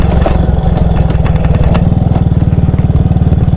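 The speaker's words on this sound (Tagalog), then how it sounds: "Parang lumalakas yung kalampag." A motorcycle engine runs steadily and close with a fast, loud rattling clatter, a loose part knocking throughout a short stretch with no talking.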